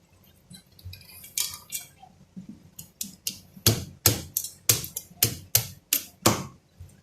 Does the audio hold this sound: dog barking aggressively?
no